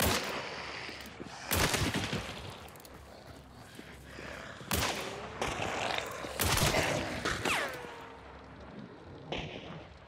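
Sharp gunshots in the video game Hunt: Showdown crack out several times amid clanking mechanical noises and a low background hum, loud and close.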